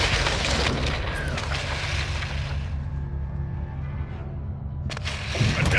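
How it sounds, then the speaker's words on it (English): RPG explosions during a firefight in the Modern Warfare II campaign: a heavy, broad boom and rumble that fills the opening, settles into a lower roar, then swells with a fresh blast near the end. "we're taking RPG fire from the east"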